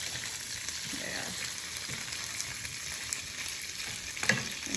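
Curry leaves frying in a pan while making ammini kozhukattai, giving a steady, dense sizzle with a crackling pop near the end, continuous and close.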